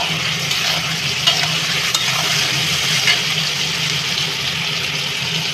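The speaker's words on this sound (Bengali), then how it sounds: "এইগুলো একটু লাল করে ব্রাউন কালার এলে আমার ভাজা হবে, ব্রাউন কালারের মতন ভেজে নেব।" Onions frying in oil in a pan while being browned for a chicken curry, a steady close sizzle with occasional stirring scrapes and no talking.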